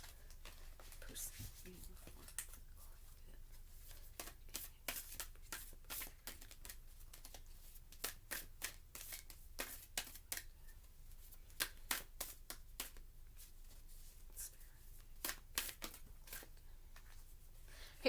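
Tarot cards being shuffled produce dense, rapid riffling bursts in quick clusters that run on for many seconds, soft and close, with a quiet voice talking underneath.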